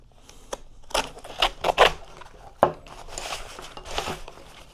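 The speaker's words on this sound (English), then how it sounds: "I'll cut open the frame pockets again too." A knife slices open the fabric frame pockets of an Exo Mtn Gear hunting backpack, giving a run of sharp ripping and tearing bursts, several short close cuts and then a longer, steadier tear.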